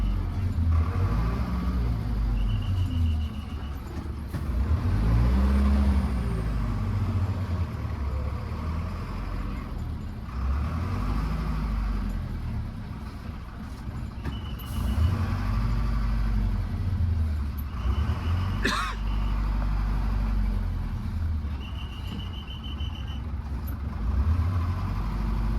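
An HRTC bus engine runs steadily during a hill journey toward Barot, a loud continuous drone with rising and falling revving over about twenty-five seconds, joined by occasional rattles and a few brief high beeps.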